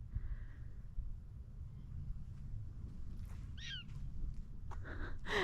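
High, chirpy squeaks from prairie dogs in a prairie dog town in Theodore Roosevelt National Park, North Dakota, sound in bursts over a low outdoor rumble, a few calls near the end fairly close.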